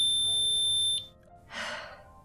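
A smoke alarm sounds after a toaster mishap: a steady, loud high-pitched beep holds for about a second, then cuts off, followed by a short breathy gasp.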